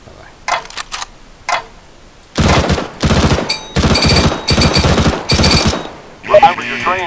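Short, controlled bursts of gunfire in Counter-Strike: Global Offensive training: a few faint early shots, then five loud rapid-fire bursts in a row, ending in a ringing metallic clatter.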